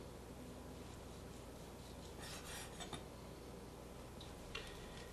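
A knife carves a roast leg of lamb on a cutting board, making faint, soft scraping and slicing strokes in a few brief bursts against a quiet background, with no talking.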